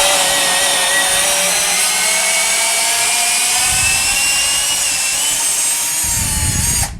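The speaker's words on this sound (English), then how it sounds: "let's see how the drill does with pulling that out" A Milwaukee M12 cordless drill backs a screw out of a workpiece, its motor holding one loud, steady whine for about six seconds and tapering off as the screw comes free, with a short clunk at the end.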